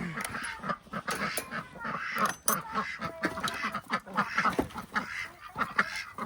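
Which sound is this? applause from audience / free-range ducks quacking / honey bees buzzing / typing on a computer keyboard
free-range ducks quacking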